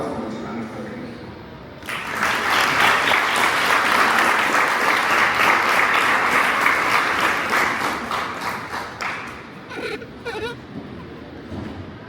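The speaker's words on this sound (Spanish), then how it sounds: "les pedimos brindar un fuerte aplauso para dar la más cordial bienvenida a nuestro grupo de ponentes" Strong audience applause at a university conference welcoming a panel of Mexican lawyers, breaking out after a quieter start, sustained loudly for about seven seconds, then tapering into scattered claps and murmuring.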